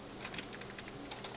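Computer keyboard typing a command in AutoCAD: a quick run of soft, closely spaced keystrokes, faint and close, with irregular rhythm and no talk.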